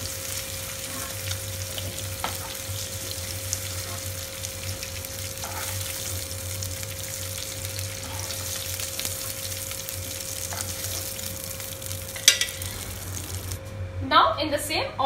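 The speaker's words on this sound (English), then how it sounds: "Let them fry for a while." Potatoes frying in hot oil in a home kitchen give a steady, even sizzle throughout, with a few faint clinks of utensils and some light background noise near the end.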